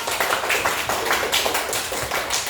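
Classroom clapping for a student group presenting their work in an Islamic studies lesson, a brisk, close patter of many small hands, loud and continuous for the whole stretch.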